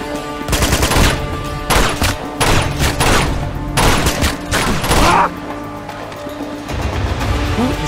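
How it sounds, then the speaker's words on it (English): Gunfire in the video game Uncharted 2: Among Thieves, on a train, comes as loud, close volleys of rapid shots in several clustered bursts, easing to quieter rumbling background toward the end. "Who is shooting me?"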